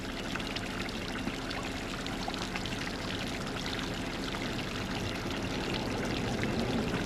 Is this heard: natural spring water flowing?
yes